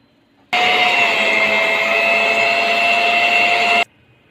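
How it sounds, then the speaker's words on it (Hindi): An electric beater kneading pizza bun dough, a steady loud whirring motor hum that starts abruptly, runs evenly for about three seconds and cuts off. "जो हमारे बीटर है उससे 7 to 8 मिनट के लिए हमने डो को गूंदना है"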